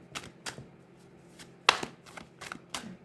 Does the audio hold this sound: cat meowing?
no